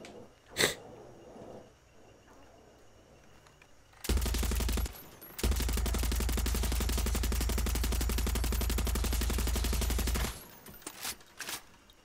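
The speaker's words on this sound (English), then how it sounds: "Because I have a mounted gun" A mounted gun firing in Far Cry 6: two sustained bursts of rapid automatic fire, a short one then a long steady stream, loud and close, with scattered softer thuds around them.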